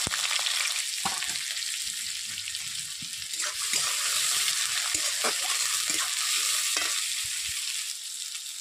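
Chopped onions fry in a pan for a Bengali chicken dish, giving a loud, steady sizzle throughout with scattered clicks and light scrapes from stirring.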